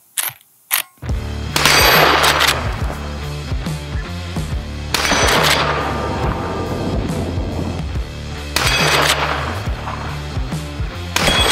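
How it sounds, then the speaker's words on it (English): Lever action rifle firing Federal premium ammunition at steel targets outdoors: loud sharp shots with ringing metallic impacts, a couple of quick bursts at the start and then three heavy report-and-ring sequences spaced about four seconds apart. "Let's start shooting."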